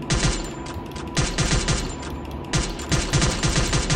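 Garena Free Fire automatic gunfire, loud and close, coming in three rapid bursts of clattering shots separated by brief pauses, with no talking over it.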